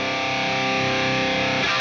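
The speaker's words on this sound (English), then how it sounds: "So this kind of sounds like sagging a little bit, but it also becomes unpleasant with some distortion in the high mid-range." A sustained electric guitar chord plays through a NUX amp simulator with its bias control adjusted, producing a dense, loud, saggy distorted tone with harsh upper mids that holds steady and then shifts briefly at the end.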